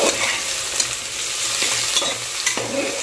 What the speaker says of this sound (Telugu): ఆనియన్ అండ్ ఆలుగడ్డ రెండు కలిసి ఈక్వల్గా ఫ్రై అవుతాయి